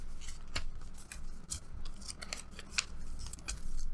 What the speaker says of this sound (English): fold the four corners into the center.